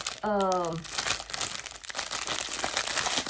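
Plastic bags crinkle and rustle up close in a steady, scratchy texture, with a brief tonal beep near the start.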